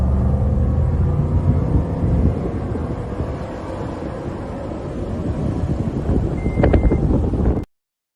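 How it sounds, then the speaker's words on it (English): A truck driving without a muffler gives a loud, steady, rumbling engine drone with rough low-end noise and wind buffeting that holds throughout, then cuts off abruptly near the end. "I've been running without a muffler on my truck ever since. And it sounds so good, as you could tell from that video."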